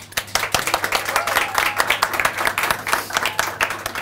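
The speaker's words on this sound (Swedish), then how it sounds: "Men så en varm applåd för våra gäster." A studio audience on a talk show claps warmly for the guests, a lively burst of many hands applauding with distinct close claps over a faint steady hum.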